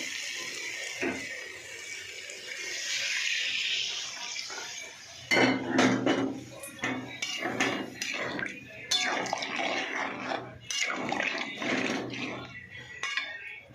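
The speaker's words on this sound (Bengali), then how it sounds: "আমার এই যে কষানো হয়ে গেছে সয়াবিন বড়ি, এবার আমি জল ঢেলে দেবো।" Water being poured into a pan of sautéed soya chunks, with clattering pots and utensils and a steady hiss of liquid hitting the hot pan, plus clinks and scrapes in the second half.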